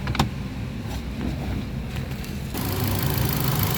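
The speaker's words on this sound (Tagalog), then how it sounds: "So far okay naman yung tunog ng engine" A Ford EcoSport engine idles with a steady low hum and a faint ticking texture, a sharp click near the start and a brighter rise toward the end, with no one talking.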